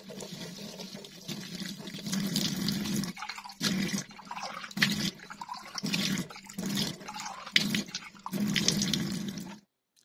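Water from a kitchen tap with a stainless steel sink, its filter cartridge removed, splashes and trickles as a hand spreads it around the basin sides, a steady close wash with brief pauses, no talking.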